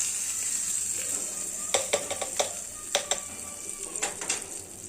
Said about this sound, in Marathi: हे आपण या चटणीमध्ये तडका देणार आहे